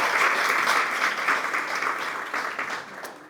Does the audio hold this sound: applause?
yes